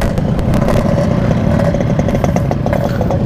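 Yamaha RX-King two-stroke motorcycle engine runs loud and close at high RPM, a dense, rattling buzz held steady throughout with no speech.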